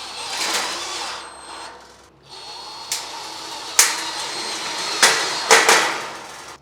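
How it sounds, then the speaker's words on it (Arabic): Self-drilling tek screws driven through metal drywall profiles for a flat gypsum board ceiling: a whirring power driver runs in short bursts, pauses, then gives several sharp bites and clicks, close and loud, with no talk. "بتجيب المسمار التك بتاعك وبتبدأ تثبت حرف عود الأوميجا في حرف السي بمسمار تك"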